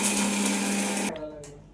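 A mixer grinder whirs loudly for about a second as it grinds roasted sambar masala made from coriander seeds with a pinch of asafoetida, then winds down and stops.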